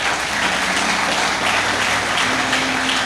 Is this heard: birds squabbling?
no